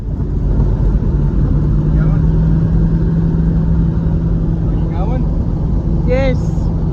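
A 1987 Pontiac Firebird on a test drive, heard as a loud, steady engine drone and road rumble from inside the car, holding constant throughout, with a brief tonal squeal near the end.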